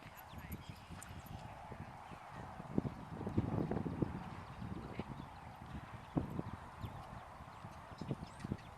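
Horse cantering during a dressage lesson, soft rhythmic hoofbeats on arena footing, moderately distant, with wind noise and a faint voice in the background.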